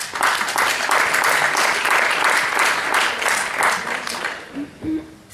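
An audience at a debate on water applauds loudly with sustained, dense clapping near the listener, which thins and fades toward the end as a voice begins.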